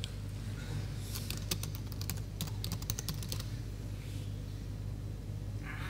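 Fingers type on a computer keyboard in a quiet room, with a brisk burst of soft clicking keystrokes in the middle and no talking.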